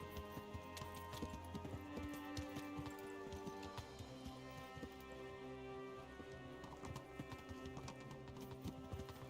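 Horse hooves clip-clop at a steady riding rhythm in the Kingdom Come: Deliverance video game, heard continuously over a dense layer of game music and ambience.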